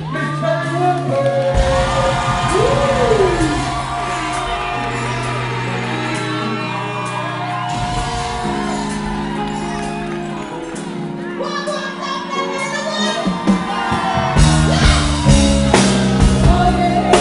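Live audience at a Sunday Night Live music show, cheering and whooping over music, with loud shouts and yells building toward the end and voices mixed in.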